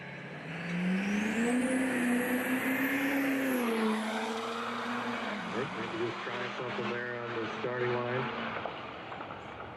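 Drag racing car launching down the strip at a callout event, a loud engine rising in pitch then shifting through gears as it pulls away, with a commentator talking over it.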